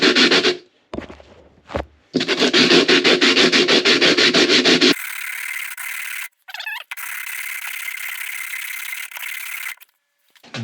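Metal part rubbed by hand over a self-adhesive sanding disc stuck flat to a table, bursts of close rasping scrubbing, then a long, steadier, higher-pitched grinding scratch with brief pauses.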